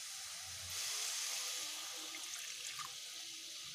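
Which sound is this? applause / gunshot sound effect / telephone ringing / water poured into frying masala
water poured into frying masala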